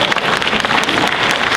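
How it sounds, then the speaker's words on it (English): An audience applauds at a Mauritius National Day flag raising ceremony at Toronto City Hall, steady dense clapping from many hands held at an even level throughout. "Et ça, nous applaudissons nous-mêmes tout ça."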